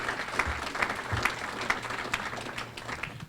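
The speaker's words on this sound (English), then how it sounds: "now that we have you exhausted from applauding" Steady applause from the audience at a college wellness center dedication, an even wash of many hands clapping, moderately loud and sustained throughout with no voices over it.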